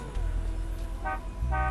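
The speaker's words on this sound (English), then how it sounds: "Who are you honking to?" Two short car horn honks sound in the Forspoken video game, one brief toot followed by a slightly longer one, over a low, steady rumble of traffic.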